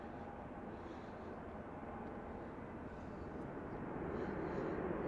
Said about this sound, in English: Helicopters flying around over Washington behind the trees. I can't see them, but I can hear them.